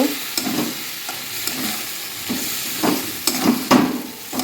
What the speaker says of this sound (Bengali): সিদ্ধর মধ্যে লবণ দিয়ে দিয়েছি এখন হলুদ দিয়ে নেড়ে চেড়ে ধনে পাতা দিয়ে নামিয়ে নেব